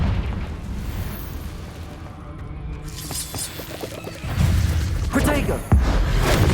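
Confringo blasting-spell explosions in the Hogwarts Legacy video game, on PC at ultra settings: a few loud booming bursts, the strongest near the end, over a busy, continuous game soundscape.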